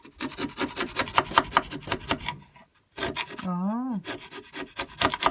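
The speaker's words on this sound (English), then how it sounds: "I think it's easier to chisel very carefully." A hand chisel paring wood while fitting a picture frame joint, with repeated scraping, rubbing strokes in a quick rhythm, a brief pause, then more scraping close by alongside a short spoken exclamation.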